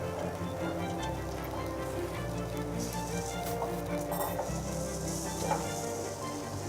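Garlic frying in oil on a Bajaj Majesty induction plate, a steady soft sizzle running throughout, fairly quiet and close, with faint kitchen clatter on top.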